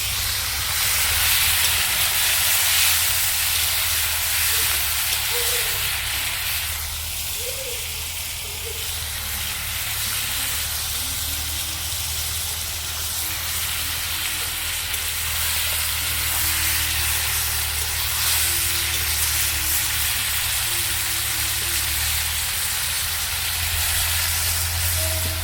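Prawns fry in hot oil without turmeric, giving a loud, continuous broadband sizzle and hiss that holds steady throughout with a low gas-flame rumble beneath, close to the pan, and no voices.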